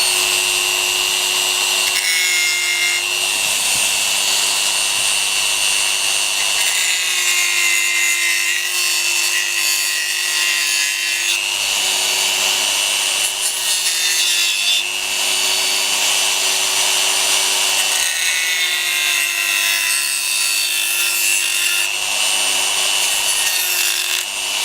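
A rotary tool spinning at 25,000 RPM cuts through a DIY housing for a Sena Bluetooth audio pack, a loud, continuous high-pitched whine with grinding rasp that dips briefly every few seconds as the bit bites and eases.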